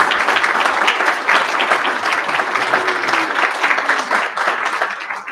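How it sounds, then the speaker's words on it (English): A public board meeting audience applauds long-serving district employees, a dense steady round of clapping from many hands that holds at full strength for several seconds. "Could we have applause for our employees who have been with us for a long time and thank them for their service."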